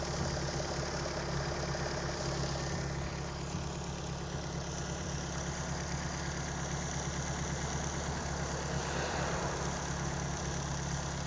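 A Kadett GS engine with a Solex C40 ADDHE carburettor running on ethanol idles steadily and evenly, a low continuous rumble with a faint knocking texture, close and alone with no talk.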